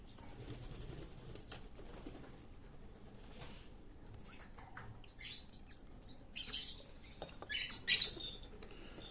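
Faint, thin chirps and peeps from baby lovebirds being hand-fed, scattered and soft at first, growing a little louder and busier toward the end.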